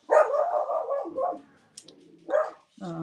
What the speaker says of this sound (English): he's decided to bark at everybody now